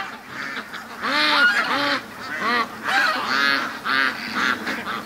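Ducks packed onto a creek honk and quack loudly in clustered bursts, several calls in quick succession with short gaps between, close by.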